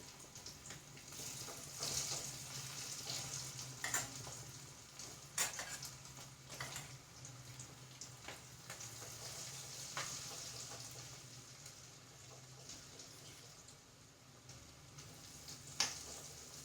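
Marinated beef for restaurant-style beef kondattam fries in coconut oil in a pan, giving a steady close sizzle with crackling pops and occasional sharper spits throughout, with no talking.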